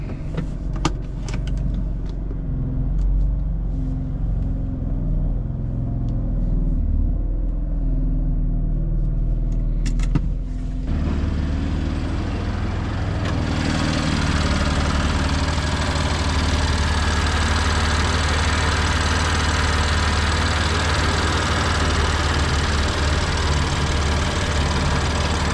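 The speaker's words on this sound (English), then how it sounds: "let me pull out of my garage" Engine of a 2020 BMW F82 M4, recently repaired for camshaft knock, idles low in a garage, then swells to a louder, fuller steady rumble as the car starts pulling out, with no talking.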